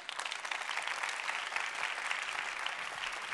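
Dense, steady audience applause after a talk at a conference session, a full room clapping continuously with no voices over it.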